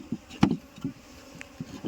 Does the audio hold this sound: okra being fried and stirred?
no